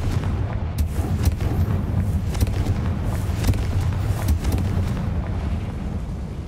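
Confringo fire spell explosions in the video game Hogwarts Legacy, a dense rumbling roar of blasts with repeated sharp impacts layered over a continuous deep boom, loud and close throughout.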